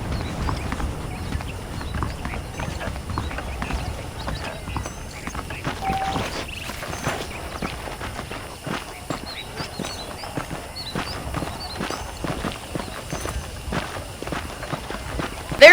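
Horse hooves clip-clop at a walking pace on a dirt road in the Old West game Red Dead Redemption, a steady moderate rhythm under low ambient background, with a sharper knock right at the end.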